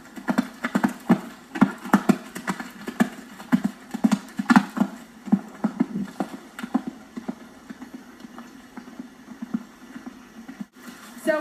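Horse cantering a line of fences in a hunt seat riding lesson, hoofbeats striking in a steady three-beat rhythm, fairly close and clear with no talk over them.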